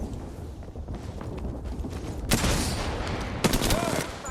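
Apex Legends gunfire in a firefight, with two loud bursts of shots around the middle and near the end over a steady background of game noise.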